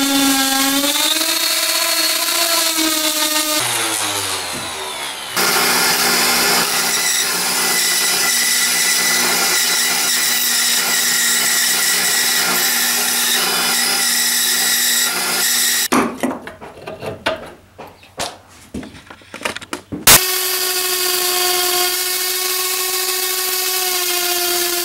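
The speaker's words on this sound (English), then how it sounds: "Now I'm going to go sand it." A power tool whines steadily while sanding a handmade wooden goblet, with a harsher, rougher burst of grinding contact partway through before the motor's even hum returns.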